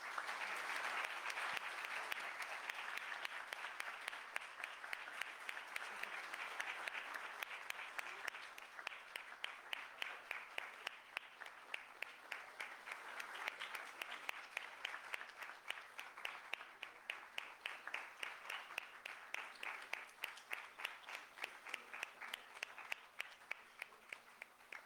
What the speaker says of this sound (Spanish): Pedimos un minuto de aplausos para ellas,